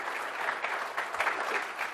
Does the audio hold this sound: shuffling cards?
no